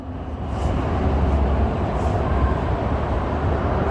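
A train rumbles steadily at Racecourse station, a low continuous roar that swells in the first half second and then holds loud and even, with no voices.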